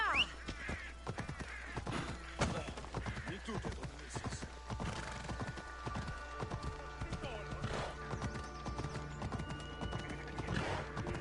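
Horse hooves clip-clop at a galloping pace in Assassin's Creed Odyssey, a steady rhythmic drumming of hoofbeats with occasional neighs and whinnies, heard close under game music and ambient sound.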